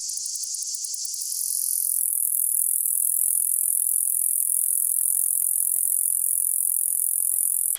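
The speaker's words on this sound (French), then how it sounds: "Comme la majorité des sauterelles, les dectiques mâles disposent d'un archet à la base de l'élytre gauche" A male bush-cricket (dectique) stridulates in a continuous, loud, high-pitched buzzing trill that holds steady throughout, heard alone without voices.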